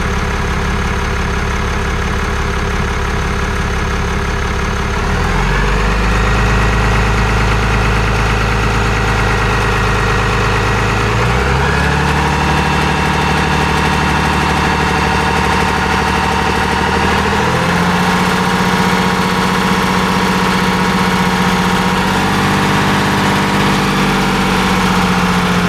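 A 2024 Ram 2500 with the 6.7L Cummins diesel idles loud and close, a steady rumble that shifts pitch a few times; a faint tick may sit within the idle.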